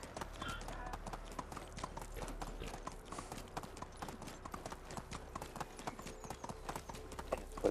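Donkeys' hooves clip-clop in a steady rapid rhythm in the video game Medieval Dynasty, quiet but continuous across several seconds of walking.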